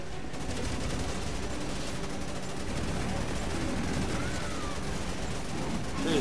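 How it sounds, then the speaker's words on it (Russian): Continuous enemy gunfire in Resident Evil 6, a dense rattle of rapid shots layered over game sounds, loud and sustained throughout with no gaps. "ствол постоянно стреляет, похоже"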